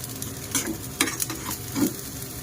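Fried rice with red pepper and small sausage pieces is stirred in a pan, with a soft steady sizzle under a few scraping strokes of the spatula, close and fairly quiet.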